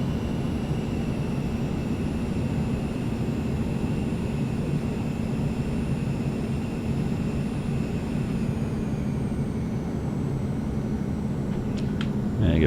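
Twin jet engines of an Eclipse 550 in X-Plane 11 spool down toward idle on approach with gear and full flaps down, a steady broad roar with a faint high whine, loud and constant throughout with no talking.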